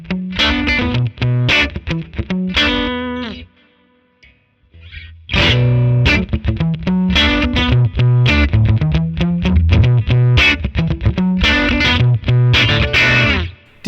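Electric guitar with a PHAT-O-Caster modded bridge pickup, driven into distortion, loud and close, strummed chords and rhythmic riffs with a brief pause near the middle, no voices.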